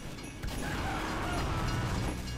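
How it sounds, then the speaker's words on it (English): Rumbling rolling mechanical noise from a payload cart or train in the video game Team Fortress 2, a steady broadband drone that swells slightly and continues throughout. "I hear a train."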